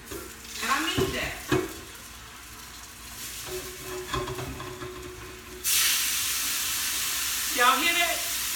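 A hot cast iron skillet, just used for searing scallops and black tiger shrimp, sizzles in a steady hiss that swells louder partway through, with brief stirring scrapes and clatter near the start.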